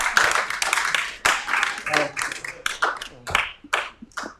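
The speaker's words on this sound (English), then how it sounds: "Kelly, that deserves a round of applause." Audience at a Sunday gathering giving a round of applause, a smaller group's uneven, loosely spaced claps rising and fading in bursts, with voices mixed in.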